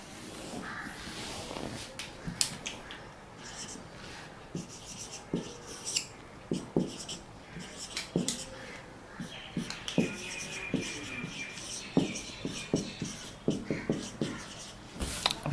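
Chalk or marker strokes scratch and tap on a board in irregular bursts during a lecture, close and fairly clear. Faint crow caws are heard in the background.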